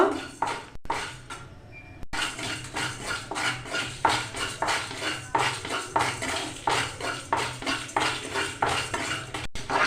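Dry coriander seeds, white cumin, panch phoron and fennel toast in a pan for pickled olive achar, with a steady rhythmic scrape and rattle of a spatula stirring, loud and close, and no talking.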